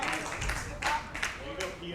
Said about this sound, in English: And we actually have some crowd noise tonight.